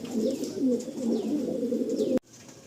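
Andhra breed pigeons coo repeatedly inside a loft, soft rolling calls close by, with a sharp click near the end.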